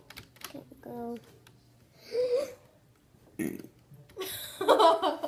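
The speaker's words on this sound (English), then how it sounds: "That was a burp." A short, loud burp comes near the end, after bursts of casual talk and a few brief noises.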